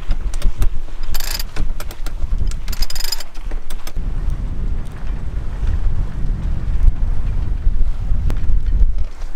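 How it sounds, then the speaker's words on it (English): Steady loud wind roars across the microphone aboard a sailboat on a beam reach in about 13 to 14 knots off Majorca's north coast, with rattling and flapping rigging sounds early on. "So we're in about 13, 14 knots of wind."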